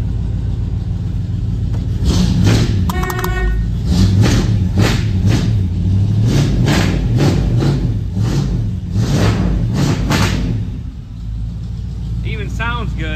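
A 1954 Chevrolet 3100 pickup truck idles with a steady, loud, low engine rumble close by. Knocks and clatter recur throughout as other noises overlap the running motor.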